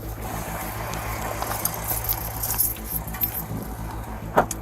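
Keys jingle and clink in light, scattered metallic rattles during a police stop, fairly close against a steady low engine hum, with a sharper jangle near the end and no speech.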